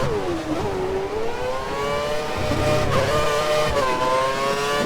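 Formula One race car engines drone in F1 2013 on the Korea circuit, a steady high-pitched whine rising and falling with gear changes, loud and continuous, with another car briefly audible nearby.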